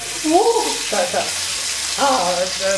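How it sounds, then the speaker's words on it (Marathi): Chicken frying in hot oil on a tawa, with a steady sizzle and oil spattering throughout; bursts of a voice speaking occur over the frying. "तेल जरासं असं ते हातांवरती उडतंय"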